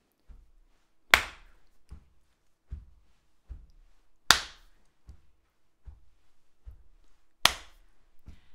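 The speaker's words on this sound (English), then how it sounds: "Clap on two" Hand claps keep count in a sing-along session, three sharp loud claps spaced about three seconds apart, with softer taps or beats ticking steadily between them.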